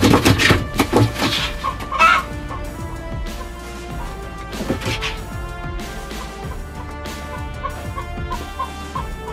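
Chickens in a coop give repeated clucks and agitated squawks, some loud and close, others softer, with irregular calls throughout, as a python is inside the coop.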